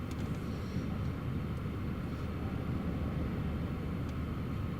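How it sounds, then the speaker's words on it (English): A KLM airliner landing at Newcastle Airport in Storm Eowyn, a steady, dense low roar of engines and wind that holds at a constant level throughout, distant and unbroken, without speech. "They nailed that landing."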